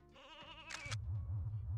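A sheep in the N64 video game Space Station Silicon Valley gives one short, quavering bleat, faint and alone.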